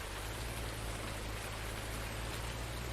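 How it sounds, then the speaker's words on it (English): Steady, dense rain hisses evenly throughout, with a low constant hum underneath and no other sounds standing out. "All I can hear is the rain."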